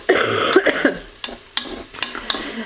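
Garlic and onions frying golden in a pan, close irregular sizzling bursts and stirring scrapes with brief pauses between them.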